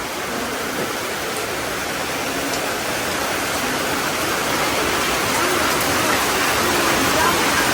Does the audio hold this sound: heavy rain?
yes